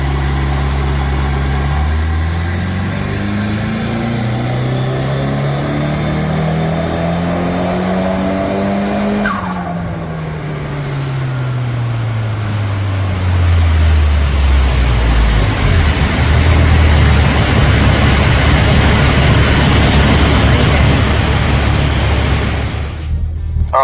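A Nissan S15 with the exhaust extractor fans removed revs hard on a dyno, the engine note climbing steadily in pitch through a long pull, then dropping away before a loud, rough roar follows.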